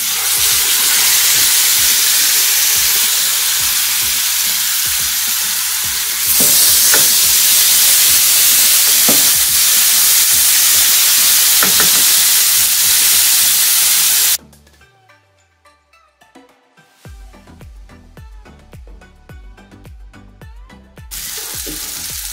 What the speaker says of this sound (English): So now we pan-sear our fish. Our pan is nice and hot.